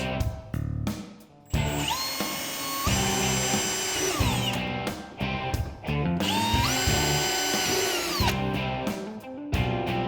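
A power drill whines in repeated bursts drilling into a plastic sled, its pitch rising and falling as it bites in, with short pauses between runs.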